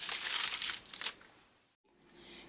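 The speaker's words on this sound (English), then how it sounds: "put your foil around your pumpkin" Aluminium foil crinkles and crackles sharply for about a second as it is wrapped around a pumpkin, up close, then goes quiet with faint handling sounds.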